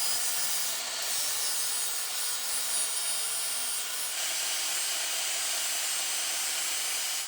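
A cutting tool bites into a Hellcat engine block being swapped into a 350Z, giving a steady, loud, hissing grind that runs unbroken for several seconds before cutting off abruptly.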